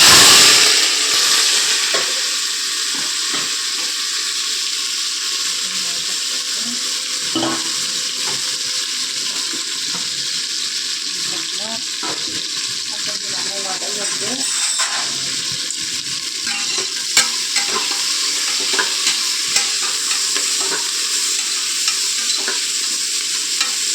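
Cardamom, fennel, cloves, cinnamon and onion frying in hot oil and stirred in a pan: a steady, loud sizzle runs throughout, with occasional scraping knocks from the stirring and no speech.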